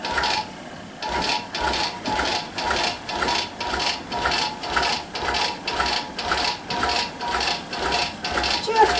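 A sewing machine stitches in a steady, rapid rhythm, its needle mechanism clicking and thumping in regular pulses close by, with no one talking.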